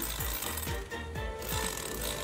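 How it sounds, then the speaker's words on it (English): A power drill carves into wood with a loud, close buzzing grind and repeated short bursts as the bit bites and eases off, with no talking. "What do we make here with this drill?"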